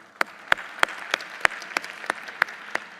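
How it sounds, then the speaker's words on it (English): A modest audience at a 2024 Global AI Summit claps sparsely, with about nine distinct, evenly spaced claps over a soft room background and no voices. "Please join me in applauding her achievement"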